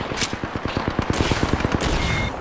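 Rapid automatic gunfire from enemies in the shooter game Apex Legends, a steady burst of loud, evenly spaced shots close to the listener, continuous for a couple of seconds.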